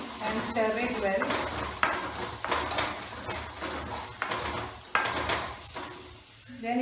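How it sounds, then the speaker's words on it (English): Onion, green chilies and turmeric stirred in a pan over a low flame, with a soft sizzle under repeated sharp metal scrapes and clinks of the spoon against the pan, close up, with a voice briefly in the background. "Keep it in a low flame and stir it well"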